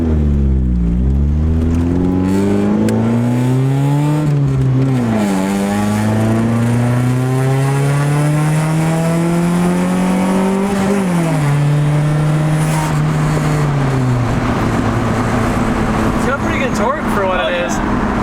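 A Honda S2000 with an aftermarket downpipe drives along, its raspy exhaust droning loud and steady with rising and falling engine pitch through gear changes, while people talk over it.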